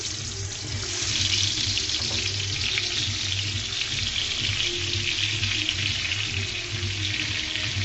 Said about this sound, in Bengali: মাছটাকে আমি ভেজে নিব